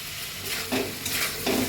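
Spiced ivy gourd (kundru) frying in a pan with a little sugar, giving a steady sizzle broken by a few louder stirring scrapes, close and alone with no talk.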